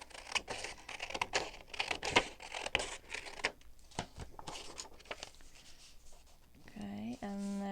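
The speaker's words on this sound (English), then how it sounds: "So I'm going to cut this a little smaller." Scissors snip paper for a collage journal, a string of quiet close crisp cuts and rustles in uneven bursts, ending with a brief tonal sound.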